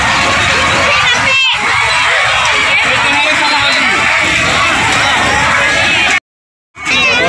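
Dense crowd noise at a Makar Sankranti fair near a break dance ride in Jharkhand, a loud steady babble of voices with children shouting and occasional whoops, cutting out briefly near the end.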